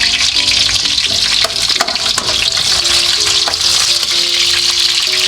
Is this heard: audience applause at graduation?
no